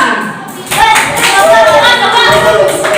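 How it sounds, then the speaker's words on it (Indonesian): A classroom of children clapping for classmates, a loose burst of applause that swells after a quiet start, close and loud, with voices calling out over it. "Tepuk tangan buat Naura dan Mas Dafa."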